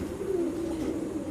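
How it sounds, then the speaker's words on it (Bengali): White top long face pigeons coo in a steady, low, rolling murmur that runs throughout, close by and alone. "মাশাআল্লাহ, একদম হোয়াইট টপ লং ফেস কবুতর।"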